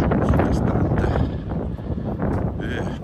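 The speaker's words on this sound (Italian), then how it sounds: "Peraltro c'è anche un po' di vento" Gusts of wind rumble against the microphone in a constant low roar on a high bridge in Val Tartano, with a voice faintly mixed in.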